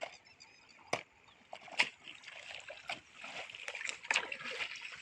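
Irrigation water splashing and sloshing into a field channel of a cumin field, with intermittent splashes and pouring surges, close up, varying in loudness without talk.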